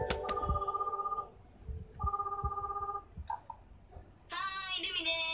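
An electronic telephone ringtone plays in the PS3 game AKB 1/149, sounding as repeated bright, steady trilling bursts with short gaps between them and ending in a higher-pitched chime. Low background noise sits beneath it.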